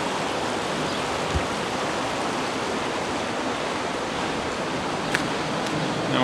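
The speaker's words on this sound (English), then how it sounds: "an overhang where the river drops in elevation, so the water picks up speed a bit." River water rushing over a drop beneath an overhang, a steady, dense broadband roar of fast-moving water, close and continuous with no talk.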